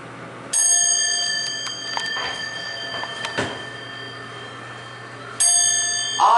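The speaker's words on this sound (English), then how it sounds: "There's everyone's favorite dinner bell." A Westinghouse hydraulic elevator at a department store sounds its arrival chime: a bright, ringing bell tone that rises clearly over a quiet cab hum and fades, with a second chime near the end and faint clicks between them.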